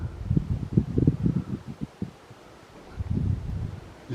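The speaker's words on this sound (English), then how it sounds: "You see the wind in the trees." Low, gusty wind rumbling and buffeting in uneven bursts through forest trees near Parson's Bridge and Nant Syddion in Wales, with no voices.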